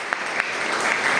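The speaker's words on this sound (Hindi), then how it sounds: "ताली बजाओ इसके नाम पे।" A classroom of students clapping briefly for a classmate in a paramedical lesson, a short burst of close, dense applause with a few sharper individual claps.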